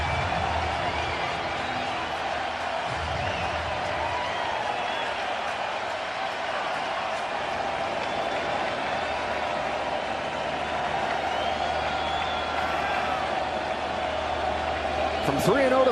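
A baseball crowd of more than 46,000 at Game 5 of the 2022 World Series, Astros against Phillies, making a steady, broad roar of applause and crowd noise that fills the stadium beneath a commentator talking throughout.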